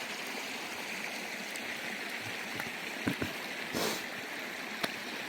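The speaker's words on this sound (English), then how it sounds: "Just a bunch of creeks running through our trail" Shallow creeks running across a muddy forest trail, a constant broad rush of flowing water with a few faint knocks and splashes over it.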